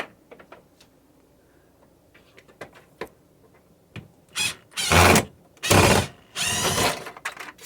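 Screws come out of the microwave mount in a 2007 Tiffin Phaeton Class A motorhome: scattered small clicks and taps give way to several loud, buzzing bursts from a powered driver, close and without talk.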